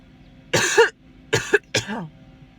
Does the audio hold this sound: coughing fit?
yes